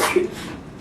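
A single short sneeze, close and fairly loud, a sharp burst that quickly trails off into quiet.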